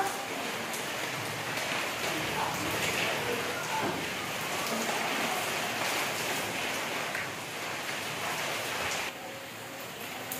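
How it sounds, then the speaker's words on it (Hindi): Steady hiss of rain falling, a continuous broadband wash with no clear pauses, fairly close and moderately loud throughout. "ये देखिए बहुत ही प्यारा मौसम हो रहा है और बारिश आ रही है"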